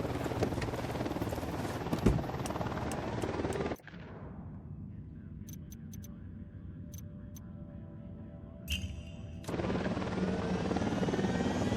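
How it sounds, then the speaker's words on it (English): A helicopter in the Ghost Recon Wildlands video game thrums loudly and steadily with rotor noise. Gunfire cracks over it, then it drops to a quieter muffled drone for several seconds before the full rotor roar returns. "Got a chopper."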